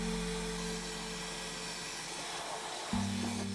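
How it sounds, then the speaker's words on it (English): A hair dryer on its lowest cool setting blowing on a vintage Rushton rubber-face plush toy, a faint steady motor whir and airflow that drops slightly and then jumps back up near the end. "So I'm gonna use the lowest setting on this dryer and blow him down cool"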